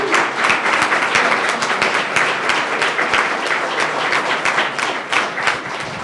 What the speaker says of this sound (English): one more round of applause for all of our contestants